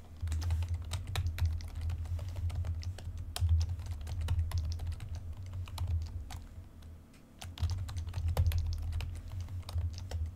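Rapid, irregular key clicks from a computer keyboard as a password is typed, continuous over a low steady hum, with a brief pause midway before the tapping resumes.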